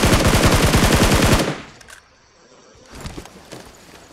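Rapid automatic gunfire from the video game BGMI rattles loudly in one sustained burst, then cuts off and gives way to faint, scattered game noises.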